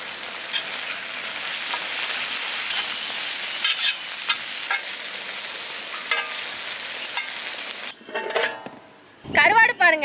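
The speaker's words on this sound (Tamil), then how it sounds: "வெங்காயம் நமக்கு வதங்கிட்டே இருக்கு" Onions sautéing with turmeric in a pan for a dried fish rice dish, giving a continuous close sizzle broken by spoon stirs, then clattering of utensils and pan contact toward the end.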